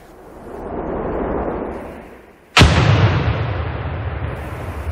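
A frag grenade explodes in the video game America's Army 3, one sudden loud close blast after a rising rushing hiss, then a long rumbling decay that fills the rest.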